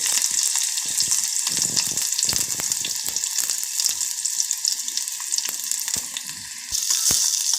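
Chopped onions and garlic fry in hot oil with cumin and mustard seeds in a pan, a loud, steady sizzle and crackle with occasional stirring clatter and no talk.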